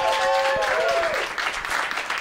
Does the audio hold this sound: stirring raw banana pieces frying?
no